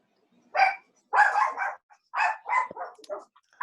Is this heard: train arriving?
no